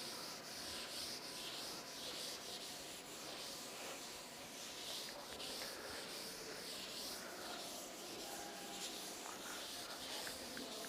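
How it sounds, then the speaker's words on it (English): Writing rubbed off a classroom board, a continuous close scrubbing rasp in long even strokes with no talk. "I will just rub the board."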